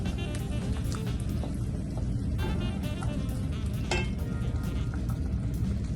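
Cinnamon sticks and a bay leaf frying in hot oil for a tamarind pickle, giving a steady, dense crackling sizzle with sharper pops scattered throughout and no talking.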